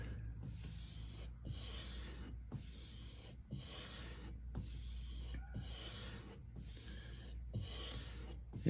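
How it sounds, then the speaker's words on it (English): A blade is stroked on the suede side of a leather strop, soft rhythmic rasping rubs repeated about once a second with brief pauses between strokes, close and quiet. "So I'm going to take this one and put it on the strop a bit."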